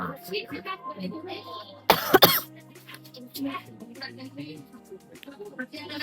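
A person coughs in a crowded bakery café on Mall Road in Darjeeling, one sharp burst of a couple of coughs amid ongoing conversation and busy room chatter.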